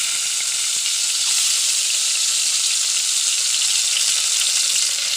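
Sliced onion frying in hot oil in a pressure cooker for a beef dish, giving a loud, steady, continuous sizzle close by with no talking.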